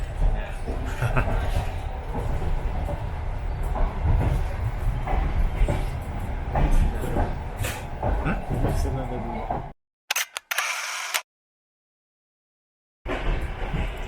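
Steady rumbling rattle of a passenger train running on rails, heard from inside a carriage while someone eats on board, with people talking over it; the sound then cuts out abruptly into silence before resuming.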